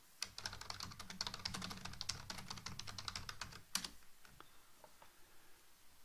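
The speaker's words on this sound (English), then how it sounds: "She's typing." Fast, steady typing on a computer keyboard during a desktop chat application demo, a dense run of light clicks that stops abruptly, followed by a few scattered keystrokes in a quiet room.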